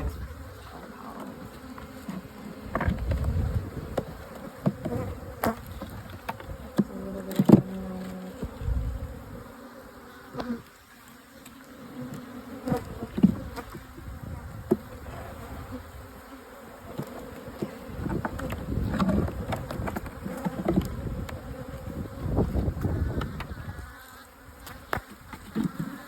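Honey bees buzz steadily around an opened hive box as the box is lifted off in February, a dense close insect drone with occasional louder passes and handling knocks, no talk.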